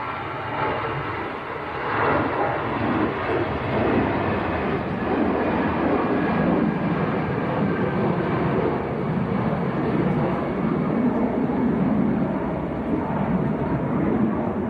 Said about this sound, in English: Another A320.